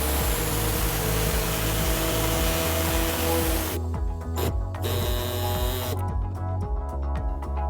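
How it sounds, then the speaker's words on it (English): A pneumatic air saw cuts through the plastic rear bumper of a 2016 Volkswagen Golf SportWagen, a loud rapid reciprocating buzz, steady throughout, briefly easing and resuming. "we're going to cut out this exposed part using an air saw"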